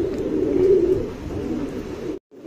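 A top-class tournament pigeon coos in a steady, low, throaty murmur that runs close and continuous, breaking off briefly near the end before resuming.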